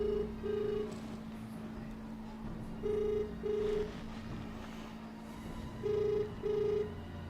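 A telephone rings in repeated double bursts, three pairs spaced a few seconds apart, moderately quiet over a faint steady hum.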